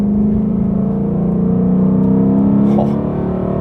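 Ford Mustang V8 engine revving past 4000 rpm, a deep loud sustained roar with a steady rising drone heard from inside the car, continuous for a few seconds.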